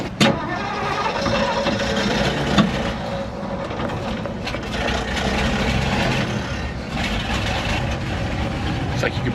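A 1962 Ford F100 pickup engine starts and runs at a steady, quiet idle, close by, with a continuous low rumble and a few brief knocks and clatters over it.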